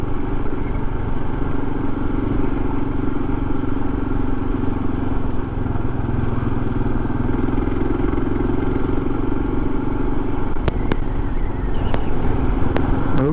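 A Kawasaki KLR 650 motorcycle rides along a road with a constant loud engine drone and wind rush, heard close up from the rider's position, with a few faint clicks near the end.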